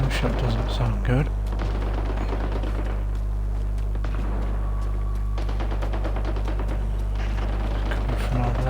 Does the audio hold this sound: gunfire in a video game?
yes